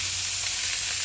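Ingredients for a Bengali bhorta fry in a pan, giving a steady, close hiss of sizzling oil that runs without a break for about a second, with no voices.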